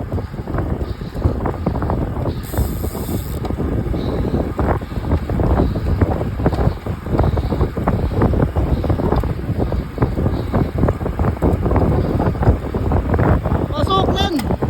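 Strong wind buffets the microphone with constant loud rumbling gusts throughout, with faint voices underneath.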